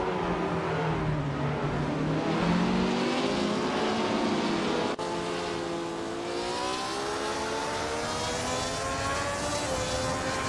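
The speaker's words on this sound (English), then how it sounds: "Meanwhile, Bot Ice and Bot Gary 710 are wheel to wheel, fighting fiercely for 7th place" Race cars in a racing video game roar steadily with layered engine whines rising and shifting in pitch, several cars running close together with a brief dip midway, loud and continuous with no talk.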